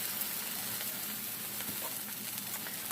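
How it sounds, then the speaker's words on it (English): Pork tenderloin chop searing in butter in a pan gives a steady, soft, continuous sizzle with faint crackles, heard alone without talk. "I like to get it a nice good sear so it sears in that nice juicy butter"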